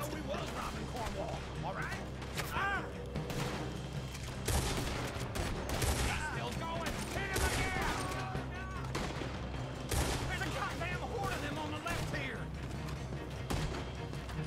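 Gunfight shootout in Red Dead Redemption 2, with rapid bursts of gunfire and sharp shots cracking over game music and effects, while people talk throughout.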